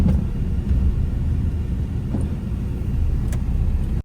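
Steady low engine rumble and road noise of a car on the move, heard from inside the cabin on a hot day in Ukraine, continuous and fairly loud for the whole stretch with no talking.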